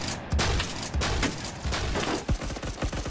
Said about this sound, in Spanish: ¿Por qué disparo con escopeta?